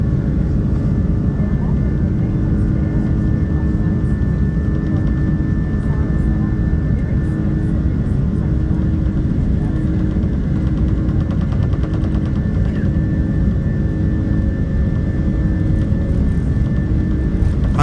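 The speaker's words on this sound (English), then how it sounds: "Takeoff." Jet engines on an airplane's takeoff roll make a loud, steady roar with a deep rumble and a whining upper tone, heard from inside the cabin for the full stretch, with faint voices under the noise.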